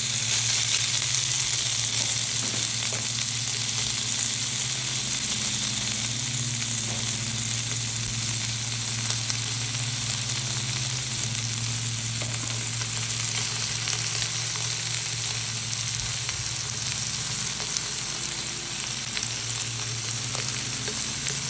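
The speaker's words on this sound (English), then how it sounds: "So we'll go ahead and put the burgers in." Burgers sear in a hot pan with a loud, constant sizzle that runs for over twenty seconds, carrying a steady hiss and faint spatters close up, with no voices.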